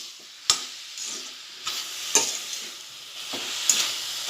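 Melting jaggery, sugar and cardamom laddoo mixture cooks in a pan with a soft bubbling hiss, punctuated by several sharp spoon scrapes and knocks against the pan.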